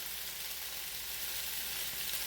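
Seasoned potatoes fry in a pan for sausage, peppers and potatoes, giving a steady, even sizzle with a soft hiss that continues unbroken throughout, with no talking.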